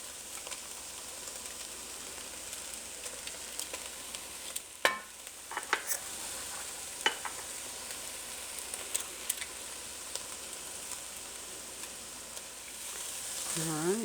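Garlic cooking for lasagna soup sizzles steadily in a pan at moderate level, with scattered taps and scrapes of a utensil stirring it and no talk.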